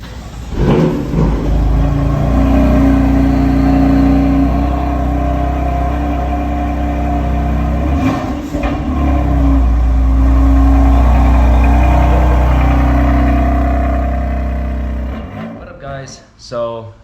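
A BMW F80 M3 starts for the first time with a loud crank and catch, then settles into a deep, steady idle with a slight revving swell before shutting off. A voice is heard near the end.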